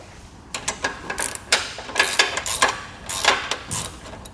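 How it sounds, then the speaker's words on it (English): Ratchet tightening a U-bolt on a Malone EcoLight Sport Trailer frame, a series of quick close clicking strokes in uneven bursts. "I've got my U-bolt. Come back down, tighten it down"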